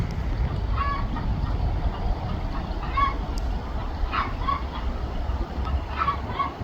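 Birds at a farm barn honk and call repeatedly at a distance over a steady low rumble, with scattered squawks breaking through.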